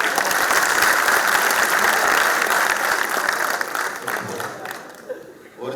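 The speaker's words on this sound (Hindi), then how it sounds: "तो मनवीर के लिए तालियां बजा दो।" Audience at a Hindi poetry recital (kavi sammelan) honoring martyrs applauding loudly, a dense sustained roar of clapping with crowd voices mixed in that fades near the end before a brief swell.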